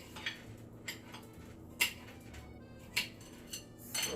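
A knife cuts through an onion on a board, several separate crisp knocks spaced roughly a second apart over a quiet background, close and soft, with no speech.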